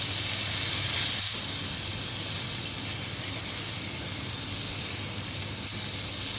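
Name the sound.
fish frying in oil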